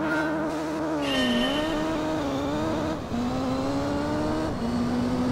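A Mazda 3 racing in the video game Gran Turismo Concept 2002 Tokyo-Geneva, its engine droning loudly and continuously, pitch rising and dipping slightly through gear shifts, with no talk over it.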